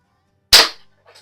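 A single sharp pop from an early Crosman Mark 1 air pistol fired outdoors, followed a moment later by a faint metallic ping from a metal silhouette target downrange.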